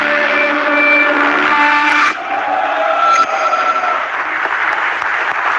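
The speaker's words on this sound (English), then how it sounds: "You heard the vroom." A race car engine sound effect plays at a Realme GT Neo 3 phone launch event: a loud, close revving roar with tonal engine whine that shifts pitch partway through, then continues as a rougher rumble.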